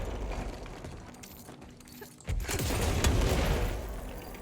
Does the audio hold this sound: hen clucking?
no